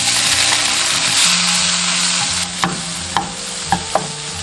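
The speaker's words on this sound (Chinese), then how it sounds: "下入虾头虾壳" Shrimp heads and shells hit hot oil in a wok with a loud, hissing sizzle, which eases slightly as four sharp spatula knocks and scrapes punctuate the stir-frying.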